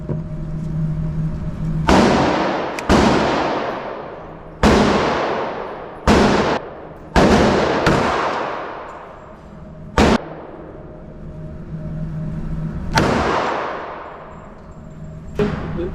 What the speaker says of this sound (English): we're gonna take a shot with the Glock here.